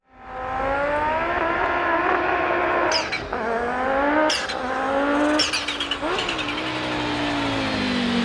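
An Audi Quattro race car engine holds a loud, steady high-revving drone with several sharp chirps and pops from the exhaust as the driver lifts off and gets back on the power, close-up and with no talking.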